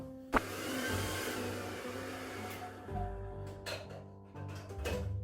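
A hair dryer whirs steadily up close, its pitch shifting as it is moved about, with a sharp click near the start.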